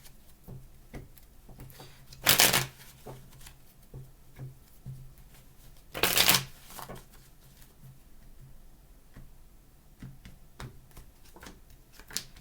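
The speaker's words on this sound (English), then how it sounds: "3 more shuffles." Tarot cards are shuffled in two loud riffling bursts, separated by quieter soft handling and tapping of the deck.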